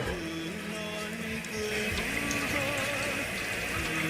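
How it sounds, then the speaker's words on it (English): Cold tap water running steadily through a mesh strainer over softened pho noodles, a continuous mid-level splashing gush with a faint tonal hum beneath, no voices. "we're gonna pour in our running cold water through the mesh"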